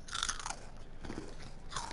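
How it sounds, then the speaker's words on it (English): Someone chews a crunchy snack close to the microphone, the soft, irregular crunching and biting fairly quiet and continuous with no talking. "Sounds like you're chewing chips."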